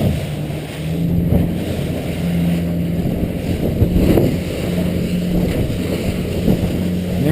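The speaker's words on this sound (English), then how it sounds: "Now I'm going to show you what this boat will do." A 2014 Weldcraft 220 Maverick DV boat runs across the water, its engine a steady low drone with wind rush and hull slaps mixed in, close and continuous with no speech.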